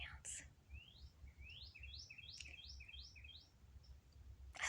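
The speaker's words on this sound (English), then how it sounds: "You hear the birds chirping." Small birds chirping outdoors in the morning, a run of quick rising tweets repeated in a short series, faint and somewhat distant over a low background rumble, with no talking.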